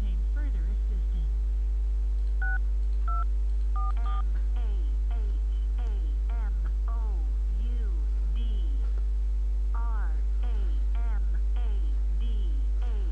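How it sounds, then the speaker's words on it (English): Touch-tone keypad on an AsteriskNOW phone system sends a series of short DTMF beeps, several presses spaced irregularly, over a loud constant electrical hum and faint warbling background tones. "enter the first 3 or more letters of the party's first or last name using your touch-tone keypad"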